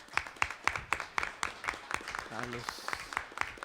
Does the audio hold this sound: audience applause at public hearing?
yes